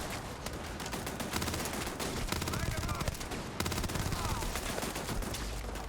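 Rapid bursts of automatic gunfire in the space game Starfield on PC, dense and continuous across the whole stretch, with a voice speaking faintly under the shots.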